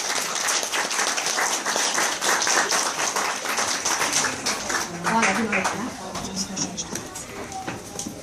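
An audience claps and applauds steadily through the whole stretch, a dense sustained patter of many hands, with voices mixed into the crowd noise.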